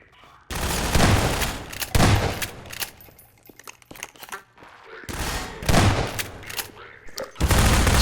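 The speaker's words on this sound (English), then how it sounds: "You've got Combine that can shoot down from above or take the low path down into the arena with you" Bursts of gunfire in combat against Combine soldiers in Half-Life 2 Episode 2, loud sustained volleys separated by short quieter gaps, with a voice talking over the fighting.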